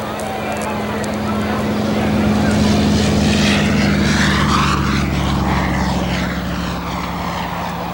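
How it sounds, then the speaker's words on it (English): A Mitsubishi Zero fighter at a 1994 airshow roars loudly and steadily as its propeller engine powers the takeoff roll, a broad continuous drone with a low hum that swells and slowly fades. "the other Zero now beginning his takeoff roll"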